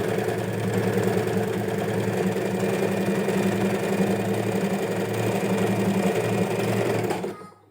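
A sewing machine stitches along the edge of the front band on a body-fit skirt with an elastic back, with a loud, steady, close motor whir for about seven seconds before it stops.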